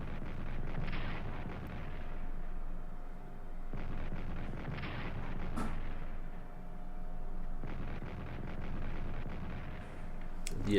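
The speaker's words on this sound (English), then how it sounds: "Now artillery fire on Gaza." Artillery fire in the strategy game Strategic Command: World War I, a series of heavy muffled booms spaced a few seconds apart over a steady low rumble, with no talking.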